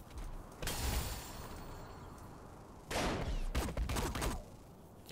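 A shotgun fires in the video game Saints Row IV: a loud, close blast, then after a pause a longer cluster of heavy booming shots with mechanical clatter, and no talking over it.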